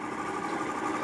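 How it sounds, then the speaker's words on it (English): A Vitamix blender runs on a 2400W power station with a steady, continuous motor whir at an even pitch and level throughout, close and fairly quiet, with no talk. "Alright, Vitamix is spinning."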